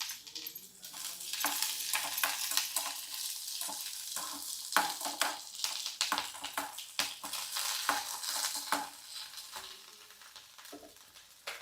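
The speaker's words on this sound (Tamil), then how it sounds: "அதையுமே லைட்டாக வதக்குனா போதும்" Garlic and curry leaves sauté in hot oil in a pan for a Coimbatore-style red chilli chutney, giving a continuous close sizzle broken by stirring scrapes, with no talking.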